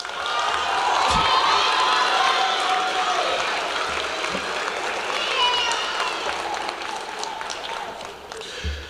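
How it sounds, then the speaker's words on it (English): Graduates and families at a high school and adult education commencement ceremony break into broad applause mixed with cheers, whoops and shouting voices, a loud, crowded roar that gradually fades toward the end. "Please give yourselves a round of applause"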